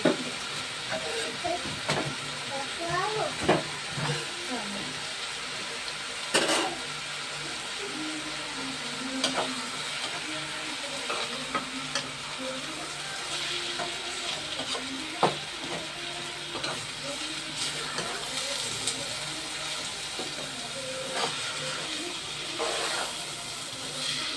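Hot oil sizzles and hisses in a pan as a dish is cooked with turmeric and chili, a steady frying crackle with a few sharp clinks and stirring knocks scattered throughout.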